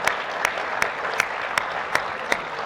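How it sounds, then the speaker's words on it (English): An audience claps for panelists after a foreign policy discussion, a steady, moderately close round of applause with dense, even patter throughout. "Let's give them a round of applause."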